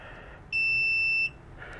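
A multimeter on continuity gives one steady high-pitched beep lasting under a second while probing pins on a Kelsey Hayes ABS module circuit board, with a faint hum before and after.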